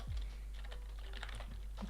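Cold fingers tapping quickly on a computer keyboard, soft, close clicks in an uneven rhythm over a low steady hum, with no speech.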